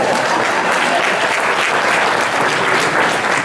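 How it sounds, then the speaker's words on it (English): A large caucus audience breaks into dense, continuous applause, loud and sustained from start to finish with no voices standing out. "So give them another round of applause."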